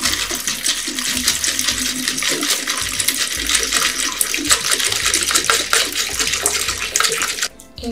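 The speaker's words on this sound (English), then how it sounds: "we put warm water in fish tank" Warm water pours and splashes continuously into a fish tank holding a plastic tree, a loud steady gushing stream that cuts off abruptly at the end.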